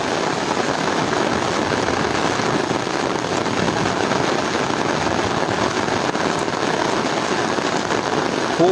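Heavy rain pours beside the flooded Gomti river in Comilla, a dense, loud, unbroken hiss of drops pelting surfaces close by for the whole stretch, with no voices heard.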